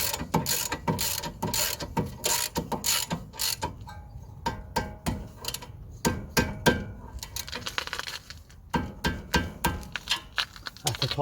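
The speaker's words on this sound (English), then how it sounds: "just gonna tighten the linkages now" Ratchet clicks repeatedly while tightening the anti-roll bar linkages on a Honda Fit/Accord, in quick bursts of close metallic ticking with short pauses between strokes.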